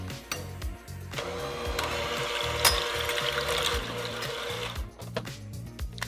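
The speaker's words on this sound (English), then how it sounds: "Now I am going to blend egg whites on the low speed." A mixer runs steadily on low speed through egg whites for a keto almond-flour sponge cake, a close continuous whir with a few clicks and knocks at the start and end.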